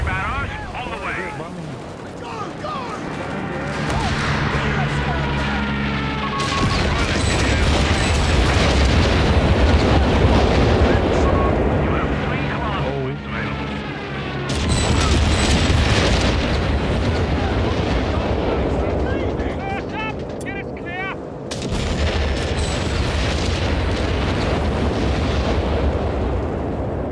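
Artillery barrage in the video game Company of Heroes 3: heavy, continuous rumbling explosions that swell and roll in waves, loud and dense, with booms overlapping one another throughout.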